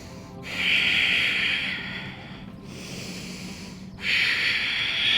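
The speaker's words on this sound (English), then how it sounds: "2 more breaths here." Deep breathing during a yoga core hold: slow, loud, close breaths with long hissing exhales, three drawn-out waves, heard without talk.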